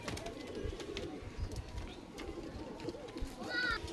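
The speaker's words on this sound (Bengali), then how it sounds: "এই দেখুন কত বড় সাইজের পায়রা" Pigeons coo in a loft of Chini Kaldum birds, low throaty calls repeating through the clip under steady rustling and movement, with a brighter chirp near the end; no talk is heard.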